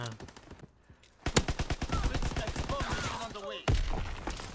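Grease gun submachine gun fire in Call of Duty WW2, rapid bursts of close, loud automatic shots with a steady chattering rhythm, set against faint game noise.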